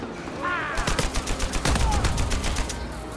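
Rapid gunfire from an Uncharted 4 online multiplayer match on PS4: a dense, loud stream of repeated shots, with a voice briefly heard alongside.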